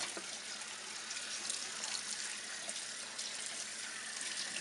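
Tap water runs steadily into a sink or tub for a Pomeranian puppy's first bath, a constant close hiss with slight splashing variations.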